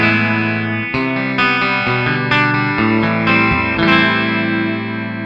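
An electric guitar plays sustained chords through an MC Systems Hybrid Chorus pedal, the modulation rate swept from a slow shimmer up to a fast, warbly wobble, loud and alone without talk.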